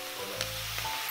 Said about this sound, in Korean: 간장 살짝 두르고